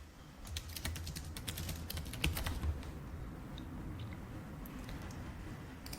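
Rapid clicks of typing on a computer keyboard, a quick burst of keystrokes early on that thins to scattered taps, close and fairly quiet over a faint background hum.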